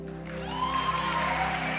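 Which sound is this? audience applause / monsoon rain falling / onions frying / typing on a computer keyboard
audience applause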